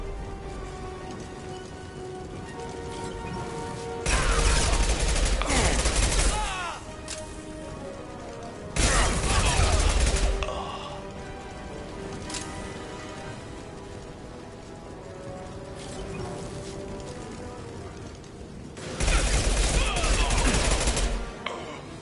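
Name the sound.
impact shot gunfire in Mass Effect 2 video game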